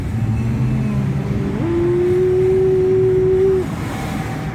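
A taxi car in Kyiv accelerates, its engine holding a loud, steady drone that rises in pitch partway through and then drops back, heard from inside the cabin.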